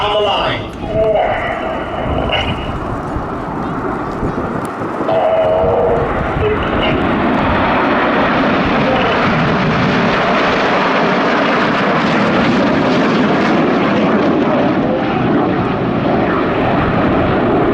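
Red Arrows jets roar overhead in a formation display at the Midlands Air Festival, a loud continuous engine rush swelling as the aircraft approach, with a commentator talking over it and crowd murmur beneath.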